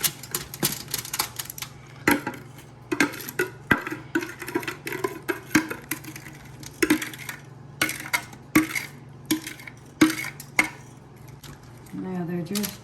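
A 9 by 13 baking pan gets lined for candied sweet potatoes: close, rapid clicks, taps and crinkly metallic clatter come in irregular bursts, with a faint steady hum underneath.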